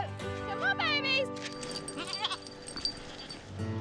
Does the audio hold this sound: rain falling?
no